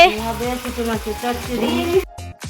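Goat meat (mutton) cooking in a pan in a home kitchen, a steady close sizzle and fry with stirring scrapes, fading out near the end.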